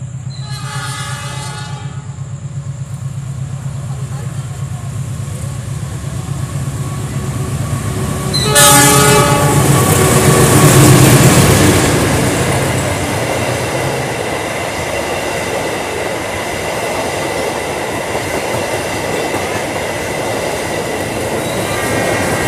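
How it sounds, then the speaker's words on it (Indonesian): An Argo Wilis passenger train runs straight through Cicalengka station in Indonesia while a Kahuripan train waits to cross, sounding a loud horn midway. The rumble of the passing cars then continues steadily to the end, with no talking. "Ini kereta api Kahuripan akan bersilang dengan kereta api Argo Wilis bersilang di stasiun Cicalengka."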